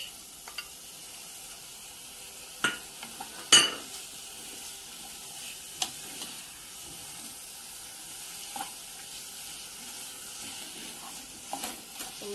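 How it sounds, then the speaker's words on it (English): Live fish dropped into a hot pot set off a quiet, steady sizzle, broken by a few sharp clattering knocks of the pot and utensils. "So now I'm adding my live fish."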